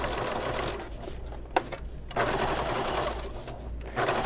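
A sewing machine runs a bag seam at 3/4 inch seam allowance, its fast, even needle chatter loud and close, broken by a short stop with a couple of clicks before stitching resumes.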